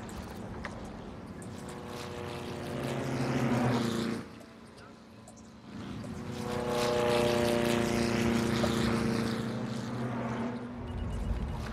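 Propeller planes drone overhead in a SimCity city-building game, a steady engine hum that swells and dips over several seconds, with someone talking over it.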